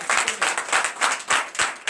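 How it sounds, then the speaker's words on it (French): A Sunday church congregation in Comè, Benin claps loudly in a quick, steady rhythm, roughly four sharp beats per second, with no voices over it. "Donc je vous demande d'applaudir très fort"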